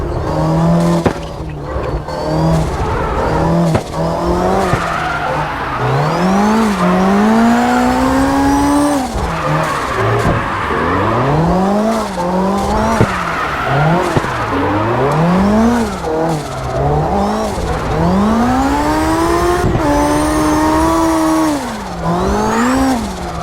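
A car drifting around a parking lot in a driving video game, loud engine revving up and down with repeated rising and falling pitch and tire squeal, continuous throughout.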